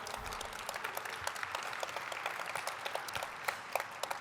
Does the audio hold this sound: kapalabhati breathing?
no